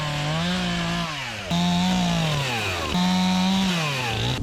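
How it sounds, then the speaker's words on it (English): Chainsaw cutting trees, the engine screaming loud and close in three long cuts, each bogging down in pitch as it bites into the wood before revving back up. "I love running a chainsaw and crap like this"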